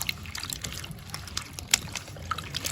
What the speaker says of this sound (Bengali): এবার আমগুলো ভালো করে ধুয়ে নেব